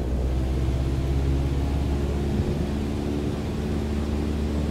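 A light airplane's engine holds steady at full takeoff power in Microsoft Flight Simulator 2020, a loud, continuous droning rumble with a low hum that stays even throughout, with no voices.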